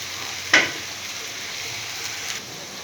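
Shredded cabbage and capsicum hitting hot oil for chowmein, a loud sudden splash of sizzle that settles into a continuous steady frying hiss, with a faint second stir near the end.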